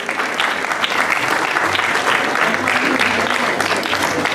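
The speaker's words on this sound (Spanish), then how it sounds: "Fuerte el aplauso, por favor." Strong, steady applause from an audience at an anniversary awards ceremony in Chincha as a young regional athletics champion is called up, continuous clapping with faint chatter underneath.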